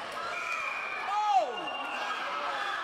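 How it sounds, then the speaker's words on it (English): Packed rink crowd at a high school hockey game, Southeastern Regional vs Sandwich, counting down the final seconds: a steady wash of massed voices and cheering, swelling briefly mid-clip with a rising then falling shout before settling back to a constant roar. "We'll let the crowd count it down for you."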